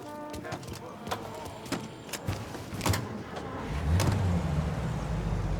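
A car driving in Mafia: Definitive Edition, its engine rumbling steadily with clicks and thumps along the way and a low drone swelling toward the end; people talk over it.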